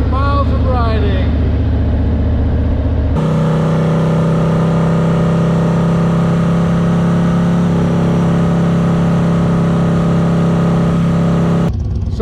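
A 2019 Harley-Davidson Heritage motorcycle rumbles loud and steady on a ride, its deep engine drone holding level for most of the stretch with wind noise, after a brief rougher passage at the start.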